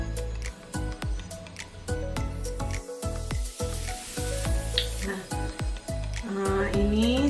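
Water with red ginger boils in a covered pot on a stove, giving a steady run of quick bubbling pops and crackles close by while a person talks over it.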